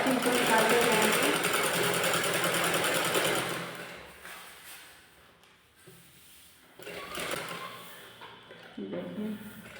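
A sewing machine stitches a net fabric kurti neck frill, running fast and loud for about four seconds, then stopping as a voice talks over quieter handling sounds.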